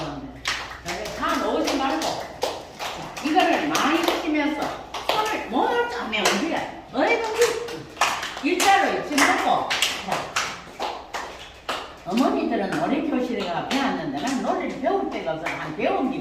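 Hands clap in a steady beat throughout a singing class at a filial piety culture center, the sharp strikes mixed with voices singing or talking over them.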